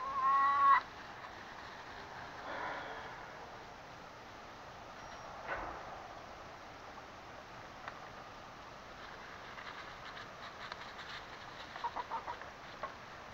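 Faint, distant chicken clucks in a quiet outdoor setting during an evening round-up, a louder squawk at the start, then sparse soft clucks near the end.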